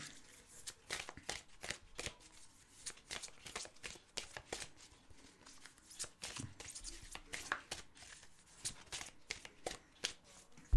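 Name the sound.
shuffling a deck of oracle cards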